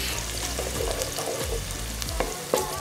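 Onions sizzling steadily in hot oil in a pan for a fish stew, a dense continuous hiss with brief stirring scrapes, close and alone without talk.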